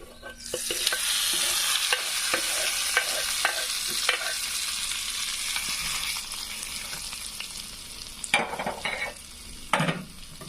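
Spices tempering in hot oil for Indian amla chutney, a steady close sizzle and fry with stirring clinks and scrapes of a spoon against the pan throughout.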